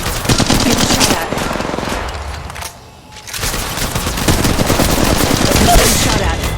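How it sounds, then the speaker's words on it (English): Rapid automatic gunfire in the mobile battle royale game Apex Legends Mobile, loud and close, with sustained bursts that briefly pause before resuming. "Contact. Battling the enemy. Shots fired at me."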